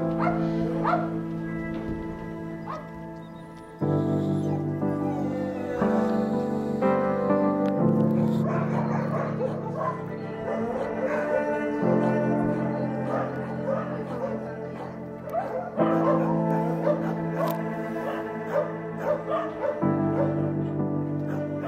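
A dog at an animal shelter barks, yips and whimpers repeatedly in uneven bursts, close and fairly loud, with a high whining edge between the barks.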